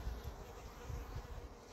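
Faint, steady buzzing of several bees around a plum tree in a small city garden, a low continuous drone with no voices.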